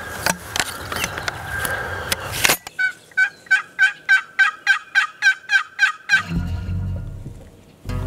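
Merriam's wild turkeys gobbling during a spring hunt, a run of about a dozen loud, evenly spaced rattling gobbles after a noisy opening burst, then a low rumble at the end.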